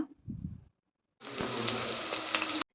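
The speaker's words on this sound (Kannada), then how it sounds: "ಇದನ್ನು ಒಂದು 5 ನಿಮಿಷ ಫ್ರೈ ಮಾಡ್ಕೊಳ್ಳಿ, ಈರುಳ್ಳಿ ಕಲರ್ ಚೇಂಜ್ ಆಗೋ ತನಕ." Sliced onions frying in spiced oil in a pan, a loud continuous sizzle after a short burst of stirring, close up with no talk.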